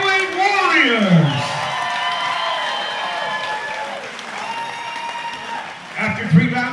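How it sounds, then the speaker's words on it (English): Fans at a corporate boxing night in Onehunga applaud and cheer the super heavyweight fighters, a steady wash of clapping and whoops beneath a ring announcer's amplified voice. "let's have a round of applause for these super heavyweight warriors"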